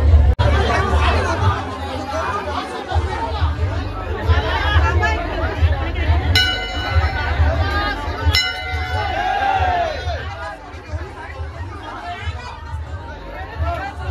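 Crowd chatter at a village temple fair for the goddess, a busy murmur of many voices close by, with a few light metallic clinks and bell-like tings cutting through the babble.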